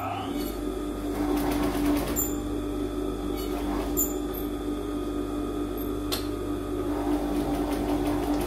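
Sewing machine stitching a V-neck collar seam with a 0.25 mm stitch, a steady close motor hum and needle chatter running throughout, with a few sharp clicks and a faint voice in the background.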